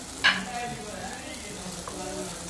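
Fried egg-potato koftas dropped one by one into a sizzling cooked-down masala in a pan, a soft steady sizzle with a brief sharp splash near the start and a smaller one later, heard close and moderately quiet.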